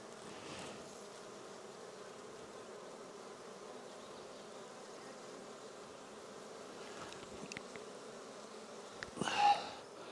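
Honey bees buzz around an open nuc hive during an inspection, a soft continuous hum with a few louder passes close by near the end.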